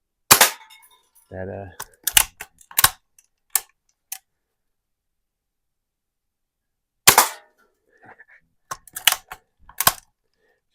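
Spring-piston pops from a 1977 Daisy 1894 BB gun firing at a soda can, several sharp reports with metallic pings, spaced in two bursts with a quiet gap, a brief voice between shots.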